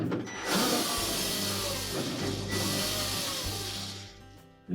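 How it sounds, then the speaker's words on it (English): A power screwdriver whirs steadily up close, backing screws out of the light switch housing of a Frigidaire refrigerator, then cuts off sharply at the end. "Our next step will be to remove the 2 screws at the rear of this housing."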